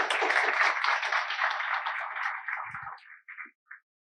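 Loud, dense applause from an audience fills the opening seconds, then thins out and trails off into a few scattered claps.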